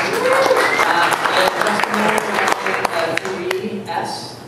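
Audience applause at an app marketing talk, a crowd clapping that thins into scattered claps, with voices and talk mixed in over it.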